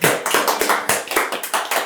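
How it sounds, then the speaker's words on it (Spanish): Sharp, closely spaced claps in a quick uneven rhythm, a short burst of audience hand clapping welcoming a speaker at a talk, heard up close. "recibamos con un fuerte aplauso a Alberto Argüelles"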